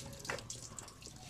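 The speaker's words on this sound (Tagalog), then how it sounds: "tumatapon yung tubig." Coolant water pours and splashes out of a car engine as a stuck-open thermostat is removed; a brief, faint trickle and splash, with no talking.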